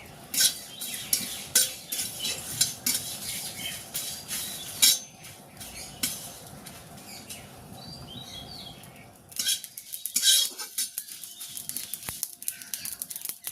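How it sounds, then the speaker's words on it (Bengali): Cumin, five-spice (panch phoron) and four dried chillies fry in a wok as pickle spices, with a soft crackle under repeated metallic clinks and scrapes of a stirring spoon, close and fairly quiet, with no talk. "এই সব মশলাগুলো ভালো করে ভেজে নেব।"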